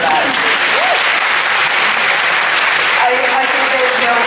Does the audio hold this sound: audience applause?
yes